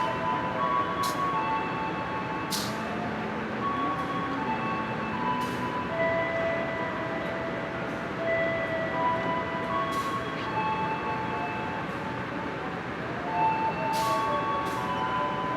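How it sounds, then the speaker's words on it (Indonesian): A Malabar passenger train pulls into a station platform, a steady rumble of wheels and carriages filling the scene with faint squeal tones and occasional sharp clanks, loud and continuous throughout. "Ada kereta api Malabar akan tiba di jalur 2"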